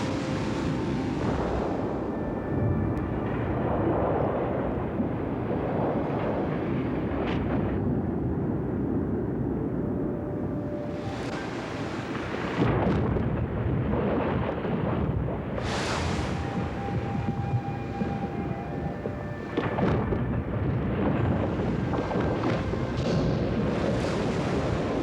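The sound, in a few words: calving glaciers, rumbling like thunder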